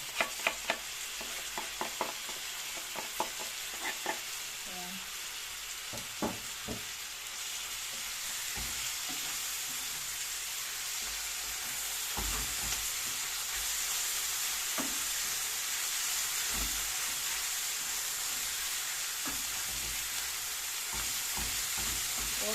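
Carrots and dried white mushrooms sizzle steadily in a pan while a utensil scrapes and stirs, with sharper knocks early on and the frying hiss growing fuller and louder later.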